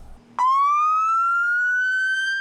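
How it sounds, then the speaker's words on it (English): A single campus police car siren starts abruptly and rises slowly in a long continuous wail, loud and close, with no talking. "when campus police flip on the lights and siren"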